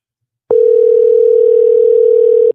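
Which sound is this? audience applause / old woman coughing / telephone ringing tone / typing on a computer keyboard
telephone ringing tone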